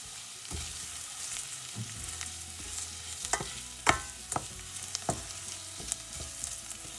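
Vermicelli and chopped onion sautéing in sunflower oil, a soft continuous sizzle with scattered spoon knocks and scrapes against the pan, close but fairly quiet, no talking.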